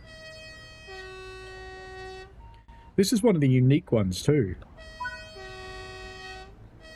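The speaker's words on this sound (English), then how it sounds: "Let's hear the horn." An ICM Koploper electric multiple unit in a train simulator game sounds its horn twice, each a sustained, near, two-tone blast, with someone speaking briefly in the gap between them.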